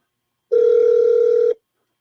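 A single telephone tone in a call, one steady electronic beep lasting about a second, loud and clear against silence.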